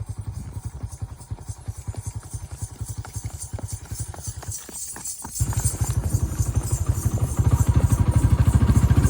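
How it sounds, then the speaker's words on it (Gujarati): A mare's hooves clip-clop in a fast, steady rhythm, loud and close, the pace quickening toward the end with a rumbling engine-like drone underneath. "જોઈ રહ્યા છો આપણે ઋતુભાઈ ઘોડી માથે ચડે છે."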